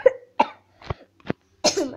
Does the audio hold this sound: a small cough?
yes